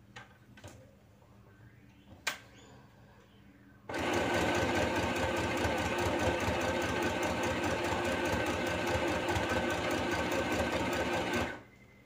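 A YOKO YK1803 portable mini sewing machine runs a medium straight stitch in one steady, loud whirring burst of about eight seconds, after a few quiet clicks and handling knocks, then stops.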